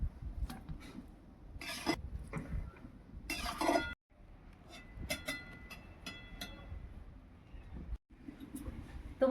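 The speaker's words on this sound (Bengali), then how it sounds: "ফুলকপিটা সেদ্ধ হয়ে গেছে, ফুলকপিটাকে আমি ঝান্নাতে করে ছেঁকে নেব।" A slotted ladle scoops and strains half-boiled cauliflower for pakoras, giving quiet clinks and scrapes of metal against a pot in irregular bursts with brief silent gaps between them.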